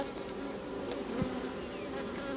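Honeybees buzz steadily and close around a hive frame set on the rack rails during a queen check, a dense continuous drone filling the whole stretch with no talk.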